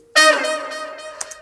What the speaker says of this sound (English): Used the brass sound from Contact. It's called Session Horns.